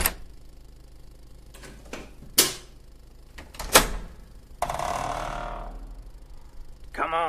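A locked door at a gun store is unlocked and swung open: a few sharp metallic clicks and clunks of the lock close by, then a longer scraping rush as the door opens, with no talking.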